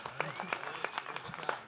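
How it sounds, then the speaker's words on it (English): Brief, sparse clapping from a small audience at a game-style competition event, with individual claps standing out and voices mixed in underneath. "let's give these two teams a big round of applause"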